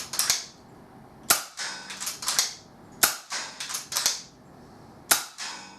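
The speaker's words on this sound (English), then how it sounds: "you close the system and you fire, and if you want to shoot again you can do this very quickly" Four sharp, clean shots from an FX Impact airgun, fired in quick succession with an irregular gap between them, each a crisp snap followed by short clattering taps.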